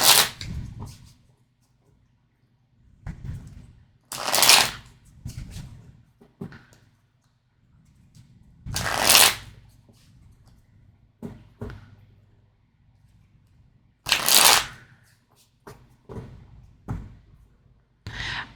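Tarot cards being shuffled by hand in several separate bursts, each a crisp riffling flutter lasting about a second, spaced several seconds apart with quiet handling and soft taps in between.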